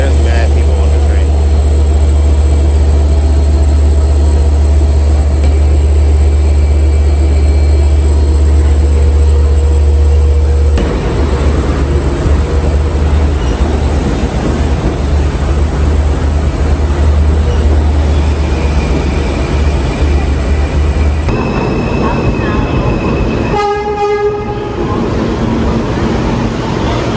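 A Long Island Rail Road train pulls into a station with a loud, close rumble that shifts in character partway through, then a brief tonal, whining passage near the end.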